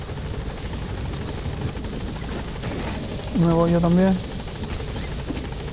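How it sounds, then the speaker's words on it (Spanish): A military helicopter in the video game Metal Gear Solid V gives a steady, whirring rotor drone throughout. A person speaks over it, and a brief tonal sound swells near the end. "Lo tengo que subir al helicóptero"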